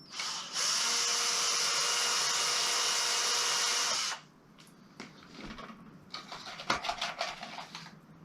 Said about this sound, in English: Just plonk the drill in.